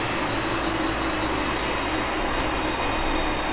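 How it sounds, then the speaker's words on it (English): A steady, broad aircraft engine roar hums continuously at moderate level, like a jet engine spooling up, with no voices; a video-game flight simulator (FSX) aircraft's first engine starting up. "First engine starting up."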